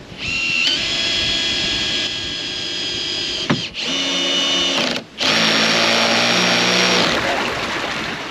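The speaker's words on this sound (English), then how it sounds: "So I'm pretty excited to have an electric drill." An electric drill whirs with a steady high whine in a village in the Louisiade islands, running almost continuously with two brief dips where it slows.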